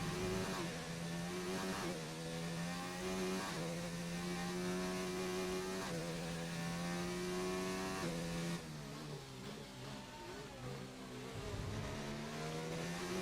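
Race car engines hum and rev steadily in a racing video game on a wet track, with traffic audible behind the lead car, a continuous close engine drone with shifting pitch throughout.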